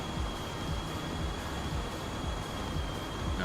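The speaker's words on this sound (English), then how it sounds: "now, I just heard that thing chiming. Where's the train at?" Rumbling train noise from Farming Simulator 25, a steady loud rolling drone with faint repeated clacks and a thin high ringing tone running throughout, no voices.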